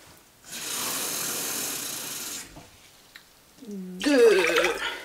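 Water pours into a cooking pot of rice for absorption cooking, a steady broadband rush lasting about two seconds, followed by a quiet gap and then a voice speaking.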